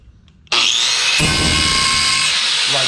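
A handheld grinder bites into metal with a sudden harsh, loud whine after a quiet moment, then grinds on steadily at close range.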